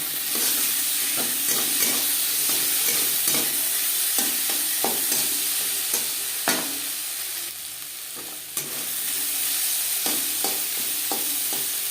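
Vegetables with spices, ginger and green chili sautéing in a pan for a moong dal, a steady close sizzle broken by repeated scraping stirs throughout, with no voices.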